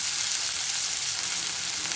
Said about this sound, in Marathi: कांदा आपल्याला साधारण 1 मिनिटभर परतून घ्यायचा आहे.